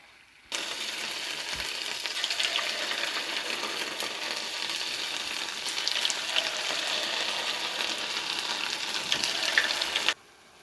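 Sweet jaggery boorelu dumplings deep-frying in hot oil, giving a close, continuous bubbling sizzle that starts abruptly and cuts off just before the end, with no voices.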